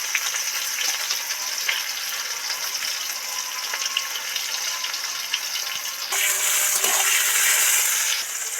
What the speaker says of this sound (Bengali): এবার এর মধ্যে পেঁয়াজের টুকরো কাটা দিয়ে দেবো